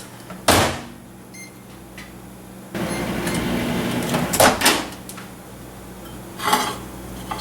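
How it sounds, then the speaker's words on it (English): A microwave oven hums steadily after its door clunks shut, heating gelatin, with a few kitchen clatters and knocks over the running drone. "pop it in the microwave for a few seconds"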